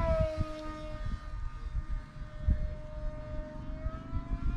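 3D printed RC combat flying wing in flight, a steady high-pitched motor whine drifting slightly in pitch, heard from a moderate distance over outdoor rumble and wind.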